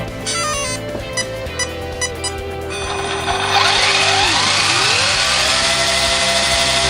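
A Traxxas Rustler 4x4 RC car with a Mamba X motor starts up: a few electronic tones, then a high motor whine that rises and sweeps as it revs, growing louder and steadier, with no voices.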